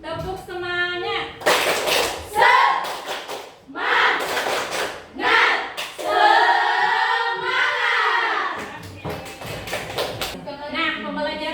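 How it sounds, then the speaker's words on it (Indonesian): A classroom group claps out the rhythmic 'tepuk semangat' ice-breaker, bursts of synchronized hand claps alternating with chanted voices, loud and close in a room. "Ice breakingnya tentang tepuk semangat."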